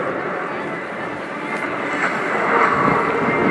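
A Eurofighter F-2000 Typhoon jet roars through a flying display at RIAT 2018, a broad, rushing engine noise that swells slightly toward the end, heard at a distance with a voice talking over it.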